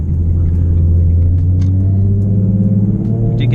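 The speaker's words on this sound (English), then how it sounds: "To get a little bit of wheel spin." A 2012 Ford Mustang accelerates hard with a little wheel spin, a loud, deep engine rumble rising steadily in pitch, heard close from inside the car with no talk.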